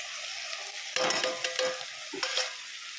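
Ground spices, salt, chili powder, turmeric and cumin, sautéed in hot oil for an egg curry: a quiet sizzle that jumps louder as a spatula scrapes and clinks against the pan in a few quick strokes.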